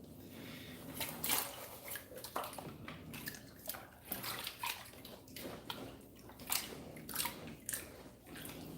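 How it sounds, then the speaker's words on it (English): Water sloshing and gritty dirt swishing inside a gold pan, swirled in repeated wet bursts close by, with occasional splashes and scraping of sediment. "Move my dirt around inside this pan."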